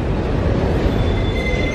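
A Buenos Aires subway train rolls along with a heavy, continuous low rumble and clatter, while a thin, high wheel squeal rises over it toward the end. No voices.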